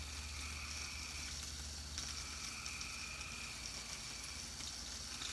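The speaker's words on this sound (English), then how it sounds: "we're just gonna get that nice sear" Seasoned baby back ribs sear on a steel griddle, giving a steady, close sizzle with a constant frying hiss and faint crackle throughout, no voices.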